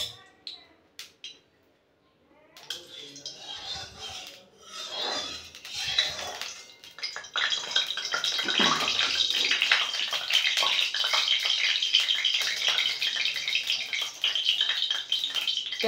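Pointed gourds (potol) sizzling in white oil in a pan, a steady hissing fry that swells after a quiet start, with a voice speaking early on.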